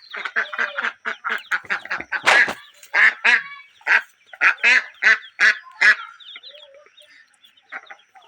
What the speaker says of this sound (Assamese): হাঁহ